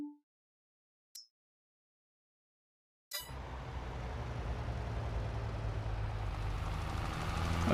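Virtual tractor engine in Farming Simulator 23 during field work, starting after a few seconds of silence and settling into a steady, low droning rumble that stays even and moderately loud.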